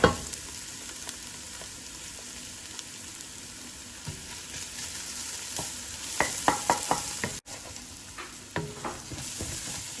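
Garlic sizzles steadily in a frying pan while cooking chicken kabsah, with a run of sharper clinks and stirring scrapes in the second half and no talk.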